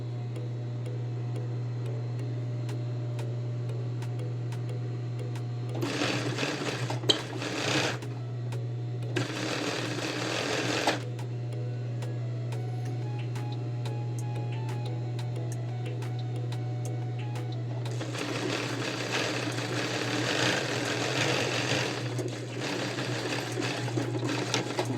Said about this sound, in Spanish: y paso la costura por todo el costado.